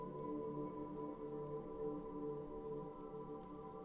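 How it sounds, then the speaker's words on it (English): Rain dripping off Eternite-covered roofs along an urban coastline in Disco Elysium, a faint, continuous patter over a low steady hum, with no voices. "rain dripping off Eternite-covered roofs"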